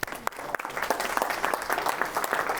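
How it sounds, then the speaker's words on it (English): An audience at a business talk gives a round of applause, a brief, dense patter of many hands clapping at moderate distance that continues evenly throughout. "Give a round of applause."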